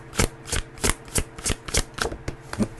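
A deck of tarot cards is shuffled in a quick, regular rhythm of about nine crisp riffling bursts, close and clear with no talking.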